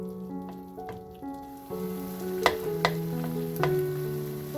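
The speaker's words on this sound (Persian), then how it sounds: "حالا یکم هم میزنیم و با پشت قاشق گوجه ها رو له میکنیم" Faint clinks and scrapes of the back of a spoon mashing tomatoes in a pan, over a steady low sizzle and hum.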